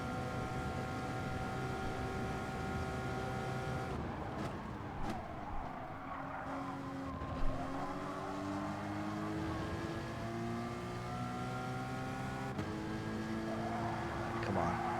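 A Porsche race car in a racing game drones steadily as the engine note climbs and drops through gear changes and corners, with tire scrub at times, continuous and close.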